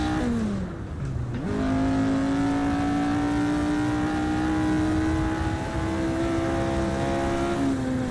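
A car engine in the Assetto Corsa racing game revs hard, dipping briefly during a gear change before climbing into a long, loud, steady high-pitched whine that holds near the top of the rev range.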